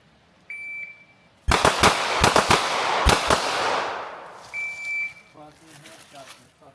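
Sharp gunshots from a pistol drill at an outdoor shooting range, a volley of several rapid loud cracks in quick pairs with lingering echo, preceded and followed by a steady electronic beep from a shot timer.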